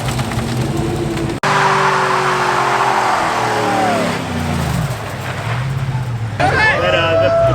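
A truck doing burnouts on private property, its engine revving and dropping while the tires spin and squeal. A short cut interrupts the sound, and people talk over the noise.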